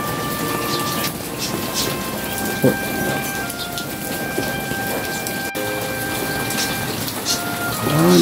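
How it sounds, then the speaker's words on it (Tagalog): Steady rain pouring down, a dense continuous hiss with occasional louder drips and faint background tones. "Ulan."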